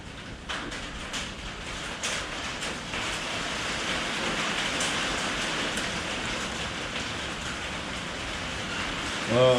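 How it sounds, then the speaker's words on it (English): Steady rain drums on a roof in Alabama, a dense even hiss that holds at moderate loudness throughout the whole stretch, with a short brighter knock near the end. "If you hear that rain hitting the roof,"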